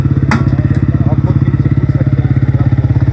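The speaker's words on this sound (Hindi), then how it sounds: "बाइक वाले भाई आए हैं" A motorcycle engine runs close by with a steady, rapid low pulsing as it arrives on a damaged road near the Oghi–Manchura dam road, with a few thumps and clatters from the rough surface.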